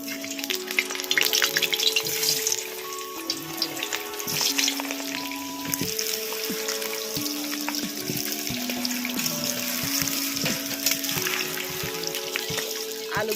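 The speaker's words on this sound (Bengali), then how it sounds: "তেলটা গরম হয়ে গেছে, এখন আলুগুলো ভেজে নেব" Potatoes fry in hot oil in a kadai, giving a loud, steady sizzle with crackling bursts throughout. Faint clinks and stirring sounds run beneath it, and no one speaks.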